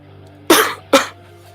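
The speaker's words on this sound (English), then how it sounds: "Still get a little cough, but there's nothing to be worried about." Two short, sharp coughs, close and fairly loud, about half a second apart, over a quiet background hum.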